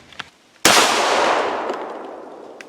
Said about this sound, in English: let's get shooting again